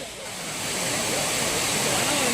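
Water pours steadily over the Courtallam falls, including Main Falls and Five Falls, swollen by continuous rain. It makes a loud, unbroken rushing roar that builds slightly and then holds.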